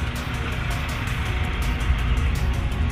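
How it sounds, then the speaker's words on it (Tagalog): Constant dense traffic rumble from vehicles on a nearby highway, heard from inside a salon as a steady, unbroken wash of noise with no clear individual passes. "kaya maingay yung mga sasakyan at may mga boses pa kayong maririnig"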